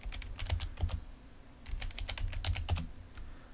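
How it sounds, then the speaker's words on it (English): Keys clatter on a computer keyboard as a password is typed, two quick bursts of close, crisp keystrokes separated by a short pause, with no talking. "So here you'll write or type your new password."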